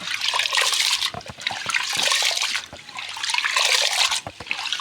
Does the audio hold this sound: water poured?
yes